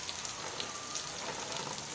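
Heavy rain falls steadily outside, a dense broadband hiss of drops striking surfaces, continuous and close with no talk.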